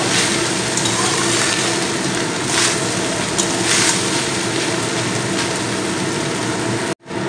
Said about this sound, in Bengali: খুব ভালো করে ভাজা ভাজা করব